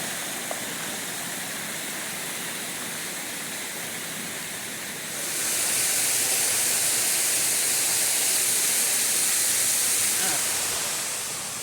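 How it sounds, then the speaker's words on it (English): Steady rain hiss on a hiking trail that grows louder and brighter halfway through as the shower intensifies and raindrops get bigger; no talking. "The water drops are getting bigger. The raindrops are getting bigger."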